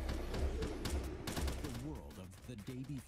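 Gunfire from armed men shooting at the player in The Day Before trailer, amid infected attackers: several sharp, fairly loud shots in the first half, followed by speech and vocal sounds as it fades.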